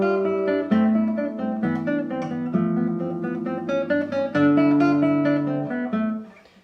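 Classical guitar plays a Carcassi étude with sustained legato bass notes under a crisp staccato upper line, steady and close, with the final chord ringing out and fading.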